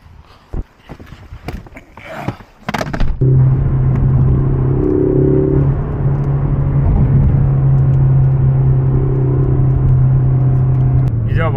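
A truck engine idles with a steady low rumble and drone, loud and close, after a few door thuds and bumps as people climb in on a rainy day.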